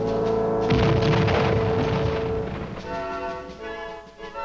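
Hand grenade explosion during military training of Vietnamese troops: one loud, deep boom near the start that rolls off into a lingering rumble, heard under a music soundtrack.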